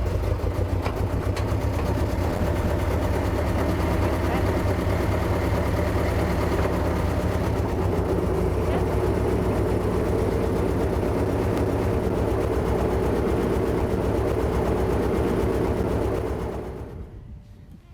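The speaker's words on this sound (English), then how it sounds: "I figured you probably want to hear this thing run and drive, so I'm going to start it up for you." A rare Minneapolis Moline NTX military jeep engine runs steadily at a low, rumbling idle, loud and close, then cuts off near the end.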